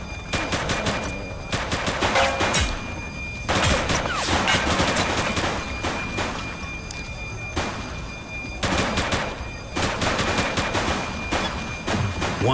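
Bursts of rapid automatic gunfire from a suspect shootout in the top-down police game The Precinct, loud and close, coming in several clustered volleys separated by brief lulls.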